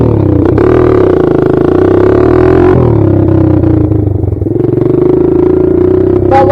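Kawasaki KLX140 dirt bike engine revving hard and steadily through a wheelie, loud and close throughout with pitch rising and easing back, no talk.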